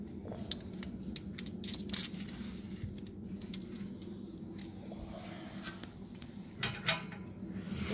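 Metal exhaust bolts from a 2019 Corvette ZR1 Akrapovic exhaust install set down one after another, several light clinks and jingles in a quiet garage, close and fairly faint with short pauses between.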